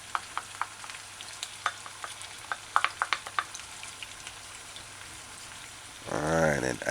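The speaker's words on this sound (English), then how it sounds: "stir in the sauce, the stirring sauce" Stirring oyster sauce into chicken and broccoli florets in a pan: scattered light scrapes and taps of the utensil, then a sudden loud, steady sizzle that builds near the end.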